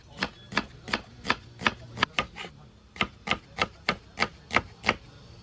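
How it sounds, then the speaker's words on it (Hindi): Onions roughly chopped with a knife on a board, a steady series of about fifteen sharp, evenly spaced knocks, close and loud, with a short pause partway through. "प्याज को रफली काट लेंगे।"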